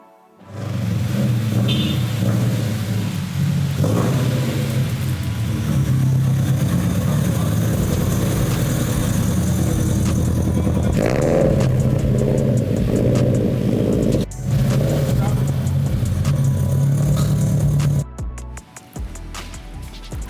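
Toyota GR86 running an Ecutek tune on E85 fuel, engine droning steadily on a dyno for about seventeen seconds, loud and close, before cutting off abruptly near the end.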